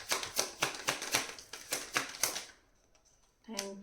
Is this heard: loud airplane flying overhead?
no